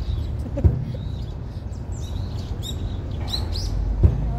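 Scattered bird chirps and tweets ring out over a steady low rumble of outdoor traffic in Korea.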